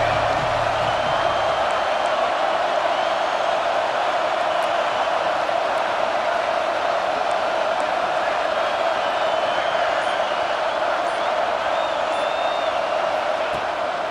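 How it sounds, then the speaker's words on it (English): Stadium crowd at an Oklahoma college football game, a steady, dense roar of cheering voices that holds at full volume throughout with no breaks. "This crowd ready to make its presence known."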